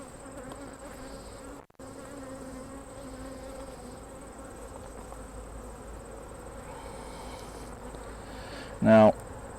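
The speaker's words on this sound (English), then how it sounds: "A few bees flying around," Honeybees buzzing around the comb, a steady close drone of many wings with one bee passing loudly near the end.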